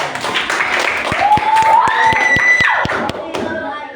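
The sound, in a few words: class applause, clapping hands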